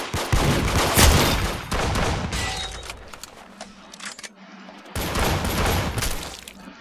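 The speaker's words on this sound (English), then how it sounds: "Oh, it's a minigun, bro. I love the minigun." A minigun in the Roblox game Arsenal fires in dense, continuous rattling bursts, loud and close, with a brief gap before the spin-up resumes; no one speaks.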